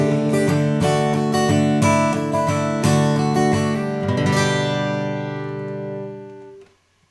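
A guitar strums the chorus of a song, with rhythmic, ringing chords played close and clear, ending on a final strum that slowly fades to silence.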